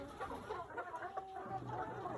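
Chickens at about 17 weeks old clucking softly while they eat, a steady murmur of short overlapping calls close by with no talk.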